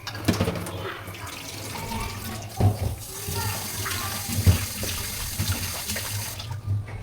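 Tap water runs steadily into a sink while leafy greens are washed by hand, a continuous close splashing with a few louder sloshes and handling bumps.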